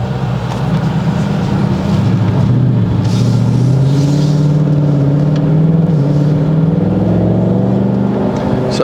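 A Ford Mustang Mach 1 accelerates on a highway, with a steady loud engine drone that climbs gradually in pitch over several seconds, blended with road and cabin noise and no speech.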